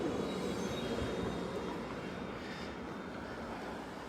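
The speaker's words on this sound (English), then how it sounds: "That's the tram going by now." Steady low rumble of a tram rolling past in Bern, Switzerland, at a moderate distance, crossing near the River Aare, a continuous broadband hum with faint high whine, no voices.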